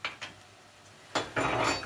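A metal spoon stirs butter and cinnamon in a cooking pot, giving a couple of faint taps and then louder scraping, rasping strokes against the pot's side.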